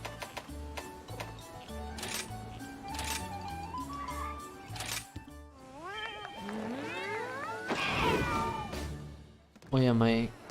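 A cat companion in the game Monster Hunter Rise meows several times among busy game sounds and music, with rising, wavering cries toward the end.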